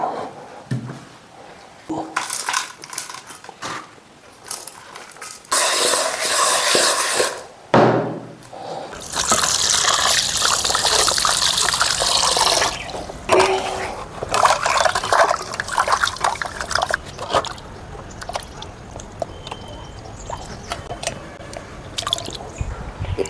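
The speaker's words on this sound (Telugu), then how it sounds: "చేపలను ఇలా నీట్గా కడిగి పక్కన పెట్టుకోండి" Fish being washed under running water, with splashing, trickling and dripping that come in bursts and pauses, close by, with handling noises and no talking.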